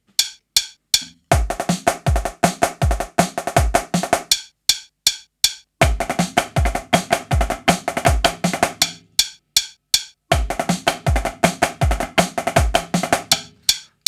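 A snare drum plays a fast, busy break from a 2026 routine, with dense rolls and accented strokes in repeating phrases separated by brief sparse hits, loud and close with no voices.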